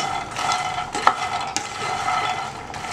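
Phool makhana (fox nuts) fry in a pan for a spicy and sweet snack, a steady soft sizzle with a few sharp clicks as a spoon stirs and scrapes close by.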